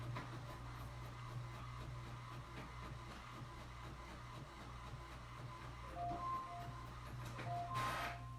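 A printer runs with a steady mechanical drone and low hum, with a few brief whirring and shifting tones near the end, heard alone at moderate volume.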